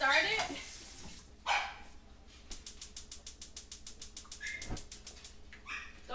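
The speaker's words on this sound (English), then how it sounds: "Don't mind our barky dog." A household dog barks in a rapid series of about fifteen sharp yaps, fairly close, in a kitchen while eggnog is being prepared on the stove, with people talking briefly before the barking.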